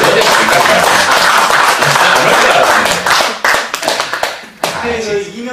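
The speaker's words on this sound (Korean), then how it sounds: "박수 한번 쳐주세요" Audience applause at a public hearing, a dense burst of many hands clapping close and loud that thins and tapers off, with a voice speaking as it fades.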